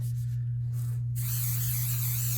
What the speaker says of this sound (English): Then you're gonna spray it with hairspray.